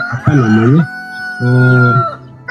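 Chickens cluck and a rooster gives a loud, drawn-out crow, close by on a permaculture farm, with a second call following after a short pause.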